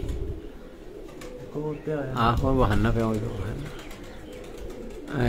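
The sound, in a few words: pigeons cooing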